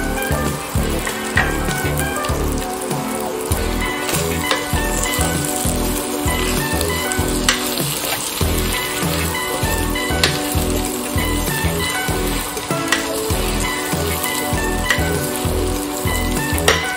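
Rice and whole spices sauté in a pan for a vegetable pulao, a steady close sizzle that runs on under background music.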